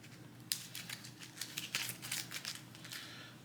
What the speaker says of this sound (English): Let's shuffle the encounter deck.